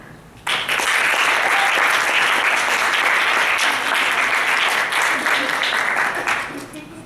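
Audience applause welcoming speech contest finalists at an evening ceremony, a dense steady roar of clapping that starts suddenly and holds for several seconds before fading out at the end.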